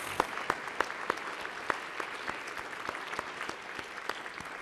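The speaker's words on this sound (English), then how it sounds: "Let's give them a round of applause and ask them to stand." Applause in the House of Representatives chamber during a floor presentation honoring a high school cheerleading team, a sustained round of clapping with distinct sharp claps standing out against the steady crowd patter.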